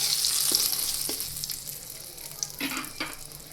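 Whole spices and cumin sizzle in hot oil over a low flame while cooking matar paneer, a steady close crackle with a few sharper pops and light stirring clicks, and no talking.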